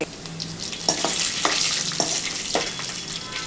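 Garlic pieces and cashews frying in oil in a pan, a steady close sizzle with several brief scraping stirs spread across it; no one speaks.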